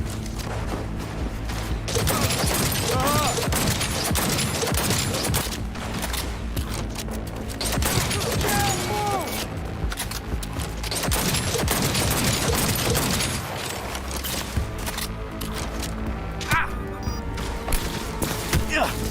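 Gunfire rattles through a chaotic firefight in Cyberpunk 2077, with bursts of shots, clatter and thuds layered over a constant din, while voices shout intermittently.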